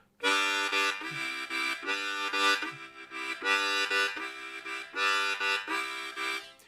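Harmonica notes are cut into short repeated pulses by the tongue stopping the airflow, giving a bright reedy chord that stutters in a steady rhythm of groups, loud and close.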